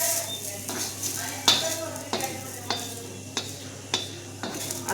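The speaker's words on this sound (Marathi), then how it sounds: "आता चांगला लाल होईपर्यंत कांदा थोडा परतून घेऊया" Onion being stirred and fried in a pan until reddish, a soft sizzle running beneath repeated scraping clicks of a spoon against the metal every half second or so, close and moderately loud.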